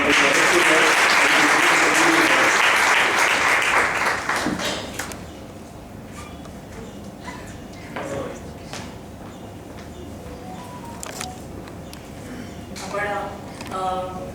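Audience applause at an eighth anniversary event with an interview, loud dense clapping for about four seconds that fades into scattered claps and a quiet room with light background sounds.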